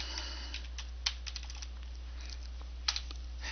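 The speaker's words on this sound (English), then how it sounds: "and then you can just start typing." Quiet computer keyboard typing comes in irregular clusters of light key clicks with a couple of sharper taps, set against a low steady hum and no speech.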